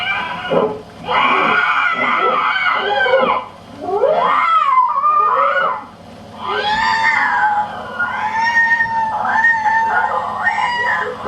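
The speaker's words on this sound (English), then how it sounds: "there was a big cat that made this strange noise" A big cat yowls and wails in long, wavering cries at a back door, loud and close, broken by a few short pauses.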